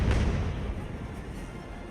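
A heavy, continuous roar of cannon fire from a naval broadside of grape shot in the age-of-sail game Ultimate Admiral, with deep booms blurring into a rumbling wash.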